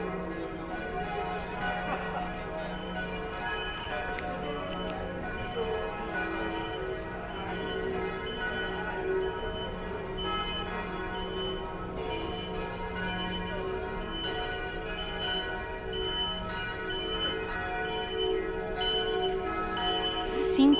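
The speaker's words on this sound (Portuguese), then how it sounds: "Cinco e meia o sino bate." A church bell rings half past five in a town centre, its sustained metallic tone lingering faint and steady beneath distant street ambience.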